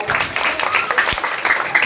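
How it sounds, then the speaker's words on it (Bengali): Students clapping together at a school farewell ceremony for fifth-grade pupils, a dense, steady burst of applause lasting a couple of seconds. "হাততালি দাও"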